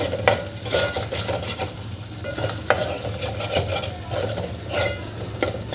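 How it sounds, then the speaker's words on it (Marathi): A spoon stirs dry spices into a black chickpea masala in a pan, producing steady scraping and light sizzling, with several sharper clinks against the pan over the run, close and fairly loud, no talking. "आता याला आपल्याला 1 ते 2 मिनटं छान मिक्स करून घ्यायचं आहे"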